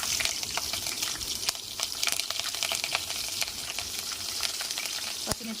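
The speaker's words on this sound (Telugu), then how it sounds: "ఆయిల్ వేడయ్యాక మనం ఫస్ట్ పచ్చిమిర్చి వేసేసుకుందాం." Green chillies fry in hot oil in a pan, producing a constant crackling sizzle with sharp pops scattered throughout, close up and moderately loud.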